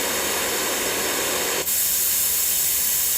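A sound machine plays a steady, even hiss like food frying continuously, its tone shifting abruptly to a brighter, sharper sizzle halfway through.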